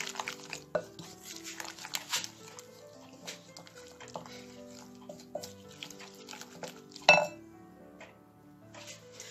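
Vegetable omelette ingredients being mixed in a bowl, with a spoon clinking and tapping against the sides in an irregular rhythm, close and moderately loud, with one sharper knock near the end.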